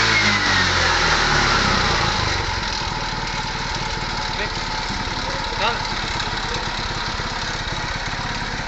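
A CNG auto rickshaw engine idles close by after its gas setting has been adjusted. The idle is loud at first, then settles into a steady, slightly softer putter.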